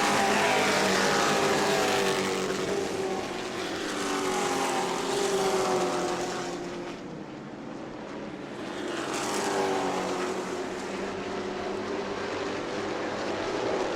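Race trucks in a Pro Truck event at New Smyrna roar past on the track. Two loud engine sweeps swell and fade as they pass close by, with a brief dip between them, and no talk.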